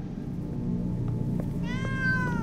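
A cat meows in Minecraft Story Mode: one drawn-out meow near the end, heard over a steady low game ambience, with a few faint clicks before it.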